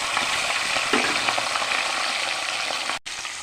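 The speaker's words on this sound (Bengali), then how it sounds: "মাথাটা নুন হলুদ মেখে রেখেছি মাথাটা ভেজে নেব" Fish head coated in salt and turmeric frying in hot oil, giving a steady close sizzle with faint crackles throughout and a brief dropout near the end.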